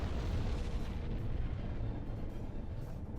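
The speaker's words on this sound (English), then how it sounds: "Sounds like explosions are still going off." Torpedo explosions in the submarine game Silent Hunter 4 rumble on as a dense, continuous low roar of distant booms, muffled and unbroken, with no voices.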